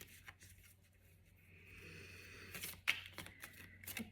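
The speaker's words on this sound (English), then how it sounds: "Let's give them a little shuffle" Soft papery shuffling of a deck of oracle cards, close and quiet, with a few riffling bursts building toward a sharper flick near the end.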